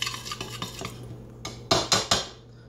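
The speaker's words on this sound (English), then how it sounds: "I'm just gonna stir it up a little bit." Almonds tossed with coconut oil and soy sauce are stirred in a bowl, a run of quick rattling scrapes followed by three loud, distinct utensil knocks, close and without speech.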